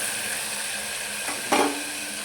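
Tomatoes hitting hot oil with cumin seeds and curry leaves in a pan, a steady bright sizzle with a short louder flare as the pieces land, no talking.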